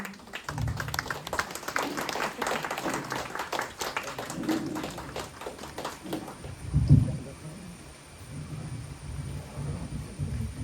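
An audience at a family gathering claps in a dense burst that thins out after about six seconds, followed by a quieter room with a voice.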